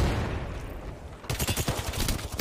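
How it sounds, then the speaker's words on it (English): Rapid gunfire on the Mirage map in Counter-Strike, a quiet stretch giving way to a loud burst of close, repeated shots in a fast, steady rhythm. "He's firing."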